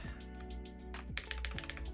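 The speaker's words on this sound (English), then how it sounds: "we'll hear how this keyboard sounds with all the foams and everything else" Keystrokes on an AERO.75 prototype mechanical keyboard fitted with foams, a few close, muted clacks and taps in an uneven rhythm over a soft background tone.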